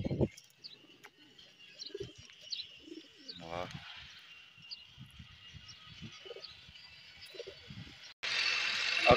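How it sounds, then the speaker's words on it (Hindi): Red-eyed pigeons in a village loft coo softly, with low repeated calls and a few chirps over a breezy outdoor background; the birds sound fairly near. "खूबसूरत सुर्ख आंखों वाला कबूतर"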